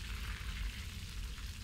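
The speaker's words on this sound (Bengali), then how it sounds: "আস্তে আস্তে ভাজছি" Food frying slowly over low heat in a pan to turn crisp, a soft continuous sizzle and faint crackle, quiet and close with no voices.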